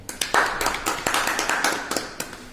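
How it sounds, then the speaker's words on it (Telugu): A class claps hands in a quick, uneven burst of sharp slaps, fairly close, lasting a couple of seconds. "It's a measuring instrument. చప్పట్లు కొట్టండి."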